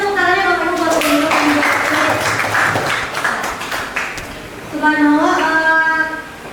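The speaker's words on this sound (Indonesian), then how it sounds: "Boleh minta tepuk tangannya Bapak Ibu buat dulu." An audience at a teachers' module dissemination session claps for several seconds in a moderate burst of applause, with someone speaking over it at the start and again at the end.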